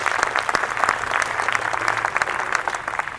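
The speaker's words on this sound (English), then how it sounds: "So give yourselves a round of applause for that." A crowd at a Miamisburg Memorial Day celebration gives sustained, dense applause, steady and moderately loud throughout.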